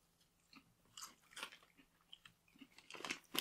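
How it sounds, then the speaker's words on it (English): Someone chewing candy up close, with soft irregular crunching and biting sounds that build toward the end, faint and without talk. "After I've been chewing it for a bit"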